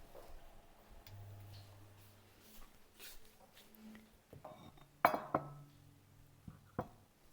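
Lid set on a pot of salted octopus tentacles to simmer for couscous: a few sharp metallic clinks near the end, close and fairly faint, with a person talking throughout.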